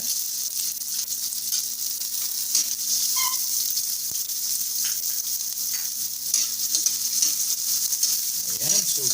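Garlic and onion sautéing in a pan as the base for pork ribs sinigang, an even, continuous sizzle with occasional light stirring, close and steady without speech.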